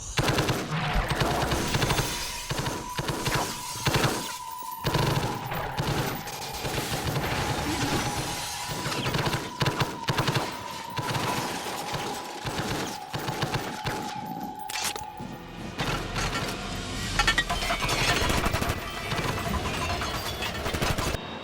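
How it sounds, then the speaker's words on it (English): Full-auto Beretta 92 FS pistols fired two-handed in a movie action scene, sustained rapid bursts of gunfire with crashing impacts and shattering debris, loud and dense throughout with only brief gaps. "they're converted to full auto because we all know that dual-wielding full auto pistols is the fastest path to accuracy"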